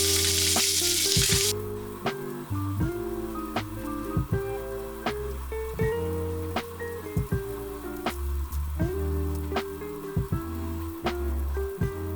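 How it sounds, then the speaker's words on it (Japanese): Bacon crisps in a pan for a Lyon-style salad, with continuous sizzling and spitting heard up close under steady tonal background music, and no voices. "ベーコンは全面ね、しっかり焼いていきます。"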